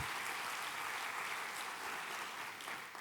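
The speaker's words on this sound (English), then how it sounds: "How about a little cheer?" Audience at the 4th Agile Serbia conference clapping and cheering, a dense, even wash of applause from a crowd that holds steady for about three seconds before easing slightly.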